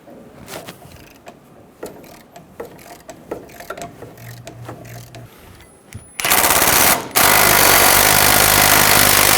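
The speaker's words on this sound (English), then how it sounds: "Using a 17mm socket," A ratchet with a 17mm socket loosens brake caliper bolts on a 2005-2015 Toyota Tacoma. It starts with light clicking and handling, then turns into loud, continuous rapid ratcheting up close.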